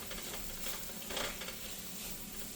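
Chicken tikka masala fries in a pan, with a soft steady sizzle and scraping stirs against the pan. One brief swell of sizzling breaks the fairly quiet, close cooking sound, and nobody talks.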